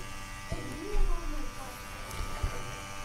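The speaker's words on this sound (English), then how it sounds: "indicating that the pump is attached and running" The pump of a Sensit P multi-gas detector runs with a steady close electric buzz throughout, while a person talks over it.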